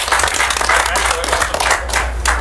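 Dense clapping from a poker tournament audience, steady and continuous throughout, with some voices mixed in.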